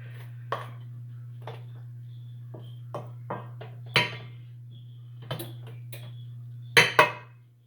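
A bowl is scraped with a utensil while mixing dark batter for Jamaican Easter spice bun, giving sparse clinks and short scraping strokes at irregular intervals over a steady low electrical hum, with a couple of louder knocks near the end.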